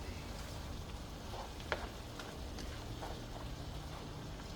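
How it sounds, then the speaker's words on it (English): Taco meat seasoned with salt gets stirred and broken up in a pan, giving a faint, steady frying sizzle with soft scraping and one brief sharp clink near the middle. "Now I'm going to stir this up."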